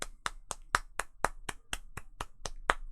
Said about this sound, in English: Round of applause for now, mate, everybody.